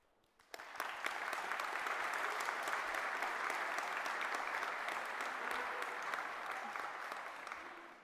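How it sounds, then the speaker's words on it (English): A graduation ceremony audience at Fife College breaks into applause after a short quiet moment, swelling quickly into a loud, sustained, evenly dense clapping from a large crowd that holds steady to the end. "So clap, cheer, and celebrate yourselves and others around you."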